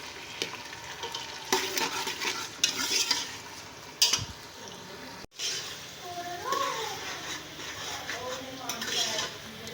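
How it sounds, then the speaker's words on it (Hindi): Onions hit hot ghee in a home kitchen pan and hiss into a steady sizzle, with spoon stirring and clinks against the pot while a voice talks over the frying. "घी डाल दिया है, अब बिस्मिल्लाह करके प्याज डालते हैं।"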